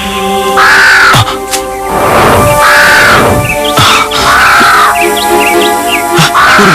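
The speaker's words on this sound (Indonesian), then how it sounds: "burung gagak raksasa itu?" A giant crow caws loudly in a forest, several harsh, close calls repeating in a steady rhythm with no voices.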